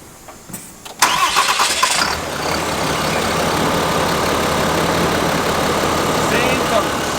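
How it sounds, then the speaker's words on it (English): A 2025 RAM HD Cummins diesel pickup engine cranks and fires close by, catching with a sharp burst and then settling into a loud, steady rumbling idle, with brief talk in the background. "So, I'll fire this one up."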